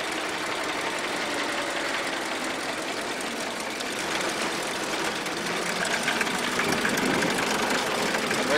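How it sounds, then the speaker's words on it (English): A 1914 Ford Model T engine idling while running on batteries, with a steady, fast mechanical ticking from the coils over a continuous low rumble, close and fairly loud throughout. "that's not even the ticking of the engine, that's the ticking of the coils"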